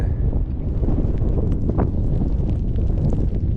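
Strong wind in Iceland buffets the microphone with a constant low roar and rumble, continuous for the whole stretch with no other clear sounds.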